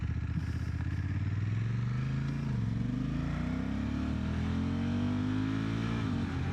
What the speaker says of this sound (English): this bike sounds so good though.